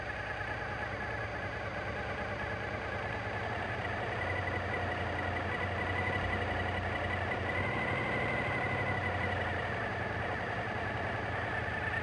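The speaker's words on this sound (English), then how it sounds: "Carefully open the lever until the engine RPM rises to 1400." A Suzuki engine is held at a steady 1400 RPM just above idle, giving a continuous even hum at moderate distance with a faint low drone and no talking.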